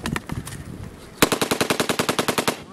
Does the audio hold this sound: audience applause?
no